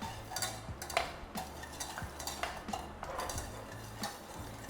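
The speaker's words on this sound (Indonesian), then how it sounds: "Kita aduk sampai gulanya larut dan hangat, bener-bener hangat." A spoon stirs a warming coconut milk sauce with sugar and pandan in a pot, scraping and ticking against the sides in a steady, moderately close rhythm with no voices.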